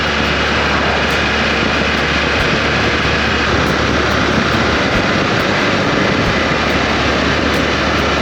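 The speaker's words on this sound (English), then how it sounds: "That is some blast of wind." A strong blast of wind roars loud and dense with broadband rush and buffeting throughout, steady and close, with faint periodic clicks above it.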